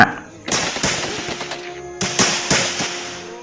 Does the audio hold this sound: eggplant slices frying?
no